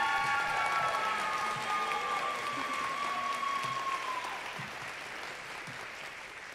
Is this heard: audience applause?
yes